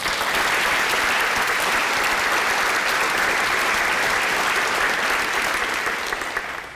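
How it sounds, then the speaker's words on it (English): Another round of applause for the honorees at the 66th annual American Legion Teenager of the Year event, a large audience clapping in a loud, steady, unbroken roar that tapers slightly at the very end. "Let's give them all another round of applause."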